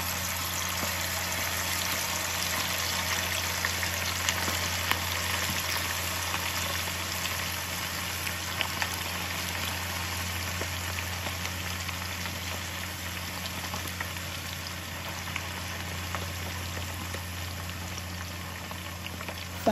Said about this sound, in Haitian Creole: nous ajouté viande cabrite là-dedans et puis nous préparé pour bien frit